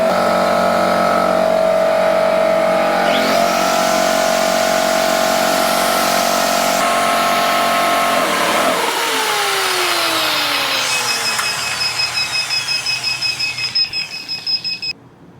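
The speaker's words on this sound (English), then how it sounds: "Heat gun, air compressor." A heat gun and an air compressor run together off a 24 V 4000 W pure sine wave power inverter, a loud steady mechanical hum with whining tones that drops away partway through, leaving a fading pulsing motor winding down.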